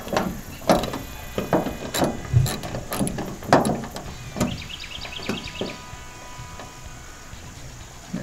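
A ratchet turns a 7mm socket on the fuel filler bolts of a 2004 Ford F250 Super Duty, with close, crisp clicking in short rhythmic bursts and a few faint metallic taps, and no talking.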